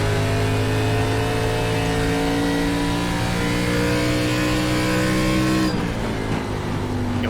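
An ARCA Menards Series race car engine at Phoenix Raceway in iRacing drones loud and steady throughout, its harmonic whine slowly shifting pitch, then easing and dropping abruptly near the end.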